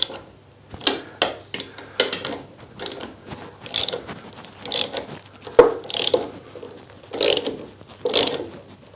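Ratchet wrench tightening coach bolts into wood to mount a workbench vise, giving repeated bursts of rapid clicking strokes with short pauses between them, close and clear with no talking.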